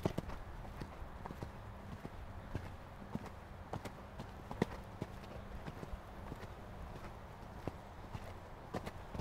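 A horse canters in a riding arena during a coaching session, its hoofbeats thudding in a steady, repeating rhythm, fairly faint and close, with no talk over it.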